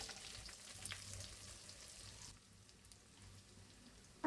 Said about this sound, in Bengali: এখন আমি পেঁয়াজটা দিয়ে দিব ওই তেলে।